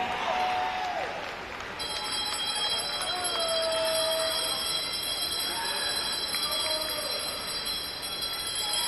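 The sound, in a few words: bell rung for final lap at swimming race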